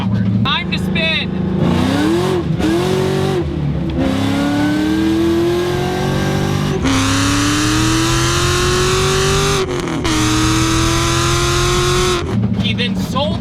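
A loud Fox Body Mustang Cobra drag car engine revs hard again and again, pitch climbing with each push, while tires spin and roar, with people talking over it.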